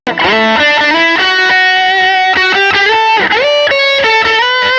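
Electric guitar run through a Fender Tone Master Pro with an 808 boost, ping-pong delay and '65 spring reverb, playing sustained, bending lead notes with bright overdriven harmonics, loud and continuous with echoing repeats.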